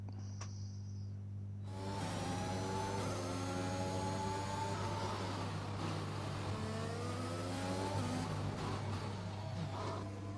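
A Formula One car from the F1 2021 video game revs hard through its gears during a qualifying lap at the Baku Grand Prix, the high engine whine climbing and dropping steadily over a constant low hum, with no talking.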